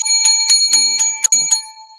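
A bright bell sound effect rings in a quick series of about six or seven sharp, metallic dings over two seconds, clear and alone with no talking.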